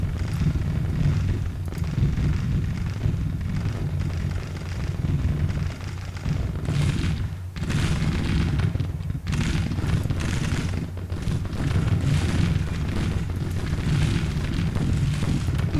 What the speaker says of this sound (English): bring Clark up here behind Ross, just so he stays out of the artillery's way